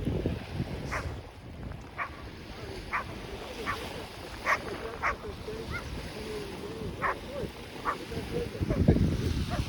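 Dogs bark at a distance on a sunny lakeside beach at Scarborough Bluffs, with a dozen or so short, scattered barks over steady wind noise and low rumbling.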